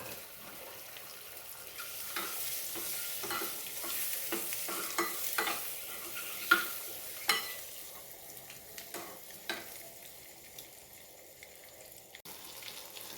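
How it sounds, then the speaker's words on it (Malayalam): Peeled boiled egg halves frying in a pan over low flame with turmeric, a quiet hiss punctuated by repeated light taps and scrapes of a utensil, close and soft, without speech. "അത് ഇതിലോട്ട് ഇട്ടൊന്ന് ഫ്രൈ ചെയ്തെടുക്കാം."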